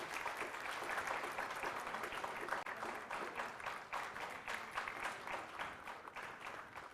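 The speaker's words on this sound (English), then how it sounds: "another huge round of applause, please, for Geberit Jansen." A conference audience at an education event in Dubai applauds, the dense clapping of many hands holding steady and even throughout, with no voices over it.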